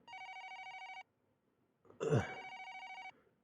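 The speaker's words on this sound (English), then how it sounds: "Oh my gosh, it's the phone." A telephone bell rings in the video game YU-NO, two clear electronic ringing bursts separated by a pause, with a brief thud at the start of the second ring.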